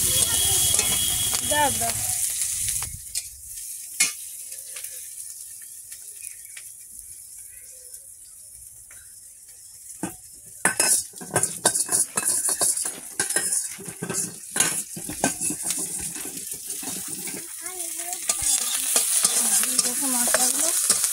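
Onion and chili sizzle and crackle in hot oil in a pan, steady frying hiss with stirring and metal spoon scrapes against the pan, and a brief voice at the start.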